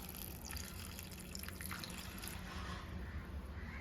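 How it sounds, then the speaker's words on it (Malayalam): Water poured into a pot of raw plantain pieces for a Kerala-style curry, a soft continuous trickle and splash that stays faint and steady throughout. "ഏത്തയ്ക്ക വേഗാൻ ആവശ്യമായ വെള്ളം ഇതിനകത്തോട്ട് നമുക്ക് ഒഴിച്ചു കൊടുക്കാം"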